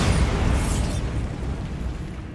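Bombarda blasting spell detonating in the Hogwarts Legacy video game, a loud booming burst at the start that trails into a rumbling decay.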